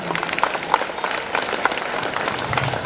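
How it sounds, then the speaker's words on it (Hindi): An audience at a poetry event applauds with steady, dense clapping that fills the room, moderately loud and continuous with no pauses. "तो अगर अनमोल लोग हैं तो अनमोल तालियां भी होनी चाहिए"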